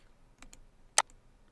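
Mouse clicks while programming drum beats on a computer: two soft ticks followed by one sharper, louder click, all brief and isolated against a quiet room.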